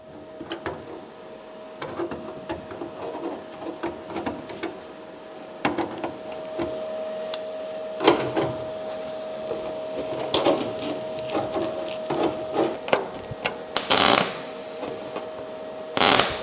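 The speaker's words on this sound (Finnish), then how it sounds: "Ruvetaan hitsaan kiinni." Welding a part onto a race car in a workshop, with an irregular crackle and sputter of bursts broken by clanks and a steady tonal hum, close and fairly loud, with longer hissing bursts near the end.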